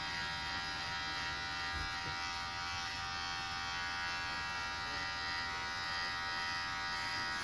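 Electric hair clippers shave the hair from a woman's head, giving a steady, close, unbroken buzz that holds at the same level throughout with no talking.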